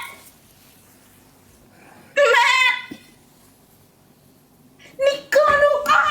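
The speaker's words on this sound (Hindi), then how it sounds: "ये बकरी।" A goat bleats close by in two loud bursts separated by quiet pauses, the second call more broken and wavering, with no speech over it.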